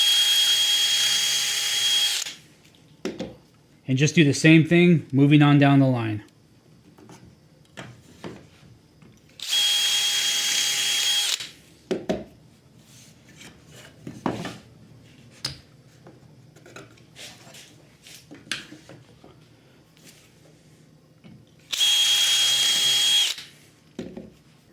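A power drill drilling dowel holes in wood through a JessEm dowel jig whirs in three short bursts, each a couple of seconds long, spaced apart with quiet handling noises and a person speaking between them.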